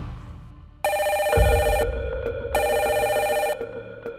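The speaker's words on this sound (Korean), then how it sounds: "퇴근 시간 직전에 울린 전화." Two long bursts of a telephone ringing, a bright electronic trill that starts abruptly and is loud and close, with a low thump under the first ring, in a police station's violent crimes unit in December 2001.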